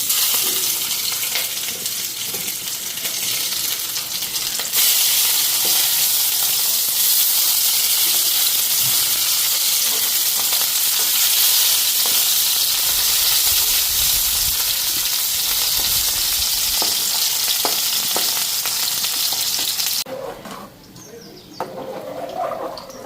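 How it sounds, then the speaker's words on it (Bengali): Half-fried fish crisping in oil in a wok over a low gas flame, giving a steady, loud, broadband sizzle that runs almost unbroken before thinning out near the end. "মাছগুলি তো আধা ভাজা করে রাখছিলাম কালকে, এখন পুরা ভাইজানি।"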